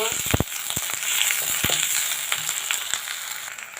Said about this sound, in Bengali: দিয়ে দেব রসুন কুচি, পেঁয়াজ কুচি পরিমাণ মতো। বাদামি কালার করে ভেজে নেব।